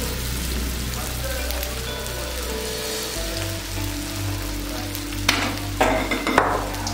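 Battered cauliflower pieces frying in hot oil at a Palakkad street food stall, a steady sizzling hiss with low hum and some clatter later on.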